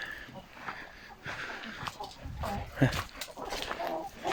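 Bresse hens clucking softly nearby in short, irregular bursts, quiet and close, with faint low murmuring and background rustle between the calls.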